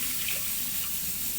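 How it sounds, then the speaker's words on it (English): Rice and water poured into a pot for cumin rice, a steady close watery rush running evenly throughout. "So we pour in the rice and the water."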